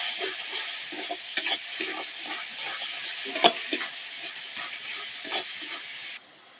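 Onions sautéing in a pan with ginger, turmeric and red chilli powder, a close, continuous sizzle with repeated spatula scrapes and stirring clatter.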